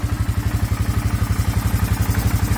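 A CF500 ATV engine idles steadily up close, a loud, even, rapid thumping beat with a mechanical clatter over it.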